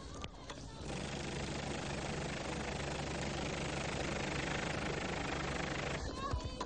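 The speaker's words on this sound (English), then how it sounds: "I can see his helicopter in the air." Helicopter rotor and engine noise overhead during an aerial chase in the Cotswolds, a steady, dense, loud drone with a low thrumming undertone lasting throughout, with brief voice bursts at the start and end.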